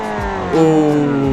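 Engine of a GT car in the driving simulator BeamNG.drive, a steady close drone with strong harmonics that rises in pitch about halfway through as it speeds up, with no talk over it.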